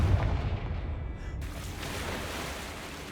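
A Confringo fire spell explodes in Hogwarts Legacy, a loud booming blast at the start that decays into a rumbling roar across the rest of the moment.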